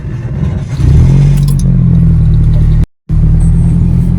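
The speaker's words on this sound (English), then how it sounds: "That's what it sounds like when the starter spins the engine over." Starter cranking the engine of a Nissan Hardbody truck, a loud close grinding drone like a rusty bearing that rises then holds steady, with one brief cut in the middle.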